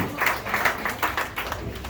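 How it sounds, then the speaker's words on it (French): A crowd at a graduation ceremony claps steadily in a dense, continuous patter of applause, fairly close and moderately loud, with no voices standing out. "Applaudissez s'il vous plaît"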